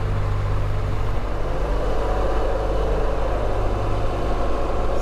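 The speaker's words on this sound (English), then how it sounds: "You can hear the tire, the knobby tires, when I'm riding straight up, very noisy" Knobby off-road motorcycle tires roll upright on a paved road, a steady loud low-pitched hum and drone mixed with engine noise that holds without a break.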